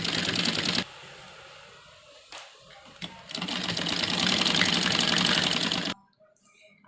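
A sewing machine runs straight stitching on a child's salwar in two loud, fast-rattling bursts separated by a quieter pause with small clicks, then stops abruptly.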